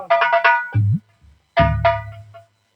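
Synthesized telephone ringtone playing as a call is placed, two loud bursts of warbling tones separated by a short pause.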